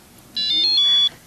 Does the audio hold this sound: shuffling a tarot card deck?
no